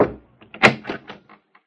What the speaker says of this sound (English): they heard a knock on the door.